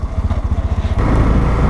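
A Honda Grom motorcycle putters with a quick, pulsing engine beat close by, then the throttle opens into a smoother, louder buzz within under two seconds.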